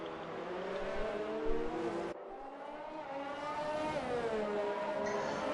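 Formula 1 race cars in a video game Grand Prix on the final lap, engines droning loud and continuous with rising and falling pitch as they accelerate, a brief gear-shift dip partway through.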